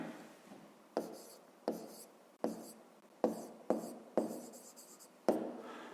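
A pen writes on paper during a fifth-grade math exercise, with about eight separate scratchy strokes, each starting sharply and trailing off, heard close and alone.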